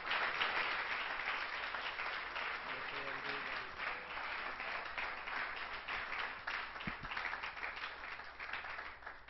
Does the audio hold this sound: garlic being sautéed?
no